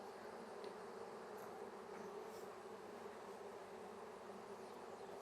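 Honeybees fly around a hive after combining, a faint, continuous buzzing hum of many insects in the open air with no talk.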